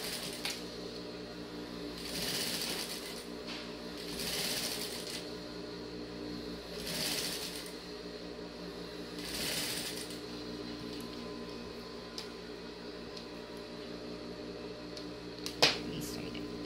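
A sewing machine running in short bursts while stitching a seam over a pocket on a gingham check skirt, its whirring rising and falling several times at close range with a sharp click near the end.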